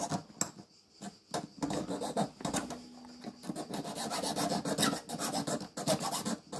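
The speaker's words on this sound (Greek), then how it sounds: "με τη λίμα μου στρώνω" Hand file rasping over a wooden octagon segment of a pierced bowl, steady back-and-forth strokes close and fairly loud, alone.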